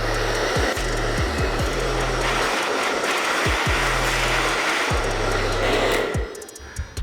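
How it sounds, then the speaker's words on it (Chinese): A hair dryer blows steadily on the back panel of a 2020 iPad Pro during a teardown, a continuous close airy roar with intermittent low motor hum, easing slightly near the end. "先用吹风机呢对背面加热一下"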